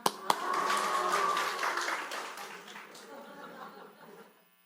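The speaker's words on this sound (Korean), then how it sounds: "그렇게 박수를 치는 거예요" A church congregation bursts into dense clapping mixed with cheering and a little laughter, loud at first, then thinning and fading out over several seconds.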